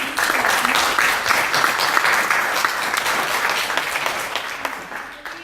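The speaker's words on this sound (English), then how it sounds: "let's give him another round of applause for the answers to these questions" Sustained audience applause for a mayoral candidate at an Oxnard College forum, many hands clapping steadily and loudly for about five seconds before thinning slightly at the end.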